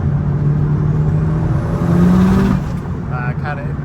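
A Mitsubishi 2G DSM accelerates in third gear, its engine droning steadily and rising in pitch as the slipping clutch lets revs flare, a sustained loud whine that eases off near the end.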